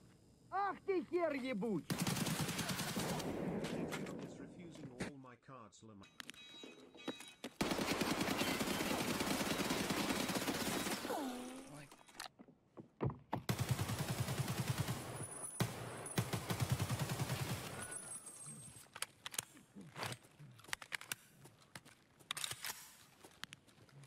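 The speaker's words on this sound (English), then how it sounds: "sounds like Judd fighting the Scav" Escape from Tarkov firefight: loud bursts of automatic gunfire and single shots come in several long volleys separated by quieter gaps, with voices talking in between.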